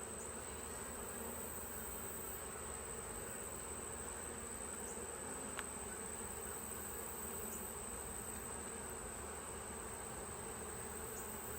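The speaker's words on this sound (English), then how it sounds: "they're becoming very angry. I don't know if you guys can hear that on your end, but the buzzing is getting very loud." Honeybees drone around a hive during an inspection after a colony split, a continuous, even buzzing that stays steady throughout with no voices.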